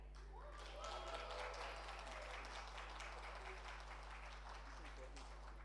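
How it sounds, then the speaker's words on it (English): An audience at a memorial programme event applauds a team after its name is called, moderate clapping that swells and holds steady at a distance over a low electrical hum. "I want to hear the audience cheer."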